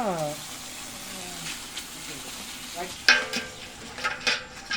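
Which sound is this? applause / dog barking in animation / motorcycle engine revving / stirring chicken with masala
stirring chicken with masala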